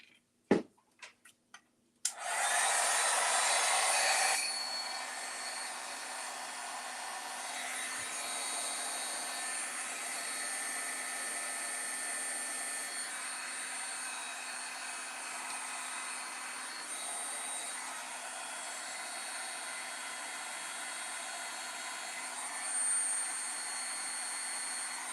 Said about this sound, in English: Let me heat emboss this first.